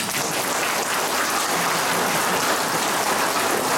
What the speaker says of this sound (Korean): 박수 한번 크게 보내주십시오